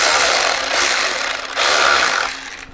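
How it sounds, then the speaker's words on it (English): Screws being started with a Torx 15 driver on Advanblack 6x9 car speaker lids, heard close as a loud, continuous rattling whir that dips briefly midway before resuming. "take my Torx 15, start a couple of these screws"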